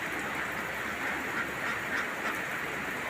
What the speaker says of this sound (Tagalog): So kumakain na po yung mga alagang itik natin.